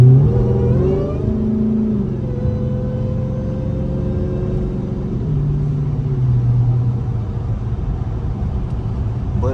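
A Dodge Hellcat engine drones with a deep, loud rumble while driving in the rain, steady and close, with a brief rise in revs at the start and tire noise beneath.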